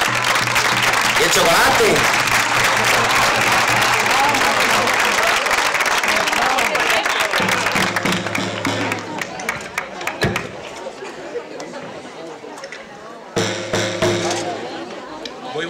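A village audience at a tamborilero festival in Guadramiro applauds a folk dance performance with loud, dense clapping that gradually thins out into crowd chatter, with a shouted voice near the end.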